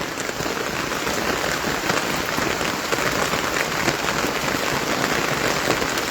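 Steady rain falling on a rooftop, a dense, continuous hiss of drops spread evenly throughout, with no voices.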